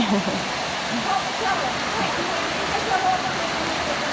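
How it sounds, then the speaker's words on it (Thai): Steady, dense rain pours down in a constant roar of drops, loud and enveloping, with no break throughout. "เพราะฝนตกหนักเลยนะคะ"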